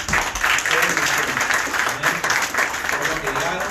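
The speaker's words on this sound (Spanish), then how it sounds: "Un aplauso, hermanos, para esta hermosa familia." A church congregation claps steadily in warm applause for a family, a dense, close wash of hands lasting several seconds without a break.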